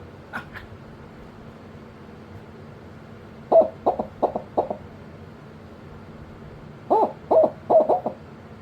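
Two groups of soft hooting calls, four or five hoots each, with a faint pair of notes earlier; owl-like hoots blown lightly on a Brute hoot owl reed call over quiet background.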